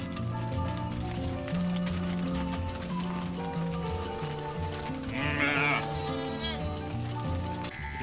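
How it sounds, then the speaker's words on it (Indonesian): Sheep bleating, one wavering bleat rising briefly over steady, loud, jaunty background music. "Wow, ini domba ya teman-teman."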